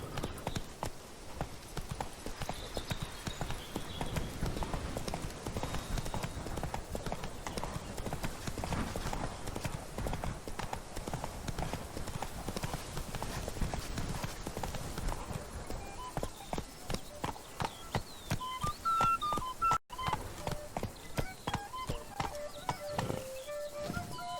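Horse hooves pound in rapid, steady clip-clop rhythm throughout a gallop in The Witcher 3, close and continuous, with occasional faint game tones near the end.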